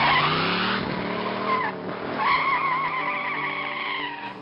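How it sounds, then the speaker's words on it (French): Car tires spinning and squealing on pavement, a sustained loud screech with a revving engine beneath, alone with no talk. "je vais aller faire spinner mes pneus un petit peu"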